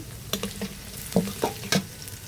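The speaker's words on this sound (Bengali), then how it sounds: "প্রথমে তেল দিয়ে এর মধ্যে পেঁয়াজ দিয়ে দেবো। পেঁয়াজটা কিছুক্ষণ ভাজা হয়ে গেলে" Onions sizzle in hot oil, punctuated by several sharp clinks and scrapes of a spatula stirring the pan.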